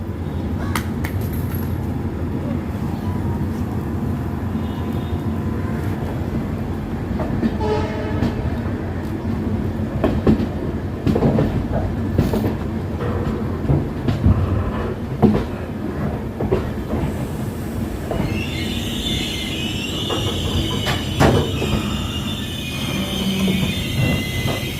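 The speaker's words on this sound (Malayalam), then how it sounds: "കൃത്യം 9 മണിക്ക് തന്നെ വാസ്കോ ഡ ഗാമ റെയിൽവേ സ്റ്റേഷനിൽ നിന്ന് ട്രെയിൻ ഡിപ്പാർട്ട് ചെയ്തിട്ടാണ്" A train pulling out of Vasco da Gama railway station on the route toward Dudhsagar, with a steady rumble of wheels and carriages, occasional clanks and squeals, and a brighter tone rising near the end, no voices.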